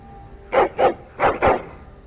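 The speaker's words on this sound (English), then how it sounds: "his barking is loud. Your hound is making so much noise." A hound in the Dragon Age video game barks four times in two loud, close pairs, with nothing else over them.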